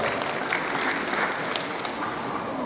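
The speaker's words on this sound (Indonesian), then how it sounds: "Kita beri tepuk tangan lagi buat beliau." Audience applause at a high school farewell ceremony, a dense, steady wash of clapping from a crowd that carries evenly through the whole moment.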